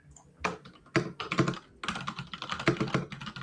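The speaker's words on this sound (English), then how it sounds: "I love hearing Will's keyboard" An engineer types rapidly on a computer keyboard, close and clear, with bursts of sharp clicking keystrokes and short pauses between runs, and no talking.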